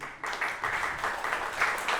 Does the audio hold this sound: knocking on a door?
no